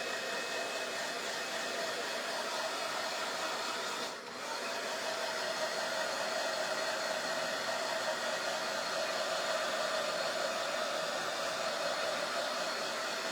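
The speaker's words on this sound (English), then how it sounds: "I feel like I've been blow drying this thing for forever" A hair dryer blows continuously on a crackle-finish craft project, a loud, close, steady whooshing roar with one brief dip before it resumes at full strength.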